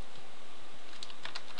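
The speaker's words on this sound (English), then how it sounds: "So you can see as I start typing" Typing on a computer keyboard, a few soft, quick key clicks in an irregular burst over low background hiss.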